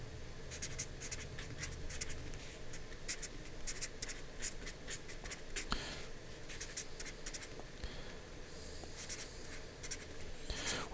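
A pen writing and sketching notes on paper close by, a quick series of scratchy strokes and taps with short pauses, steady and soft throughout.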